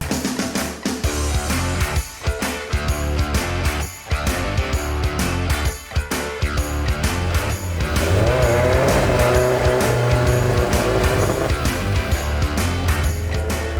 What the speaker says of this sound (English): there's one car I left out, the 205 GTI